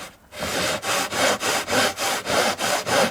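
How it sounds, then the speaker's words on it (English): Coarse-toothed rasp shaping balsa wood on a model warbird wing repair, about nine even back-and-forth strokes after a brief pause, close and clear, with no talking. "in terms of cutting balsa, it's got coarse"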